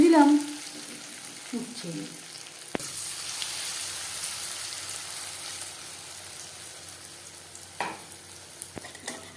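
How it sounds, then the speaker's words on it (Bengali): Batter-coated bitter gourd slices are dropped into hot refined oil and fry with a steady broadband sizzle that holds for several seconds, with a few sharp pops and brief handling clatter, after a short spoken word at the start. "উচ্ছে ভাজবার জন্য বেশ খানিকটা রিফাইন্ড অয়েল গরম করে নিয়েছি। এবার দিয়ে দিলাম"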